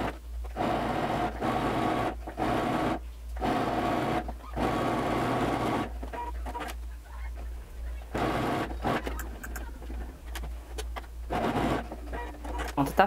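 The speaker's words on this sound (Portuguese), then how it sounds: "depois eu venho aqui e costuro as pences de fora e de dentro" A sewing machine stitches darts on the front of a wrap dress, running in short bursts separated by brief pauses. Its motor whirs fairly close, and someone speaks Portuguese between some of the runs.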